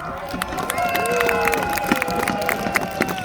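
A crowd claps for costumed warriors arriving at a medieval day at Kenilworth Castle, with scattered hand claps over sustained tonal music and a busy outdoor murmur of voices.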